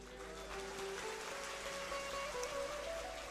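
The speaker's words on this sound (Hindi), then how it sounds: "तो भगवान ने सीधा वर्षा करके आपको उसका डेमो दे दिया कि लो ऐसे हुई बारिश।" Rain falling during an outdoor Shrimad Bhagwat Katha gathering, a steady soft hiss of drops with faint tonal hum beneath, continuous and fairly quiet.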